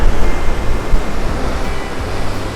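Ocean waves churn and surge through a narrow rocky gorge at Devils Churn on the Oregon coast, a steady loud roar of breaking water with rolling swells and wind, close by and continuous with no voices.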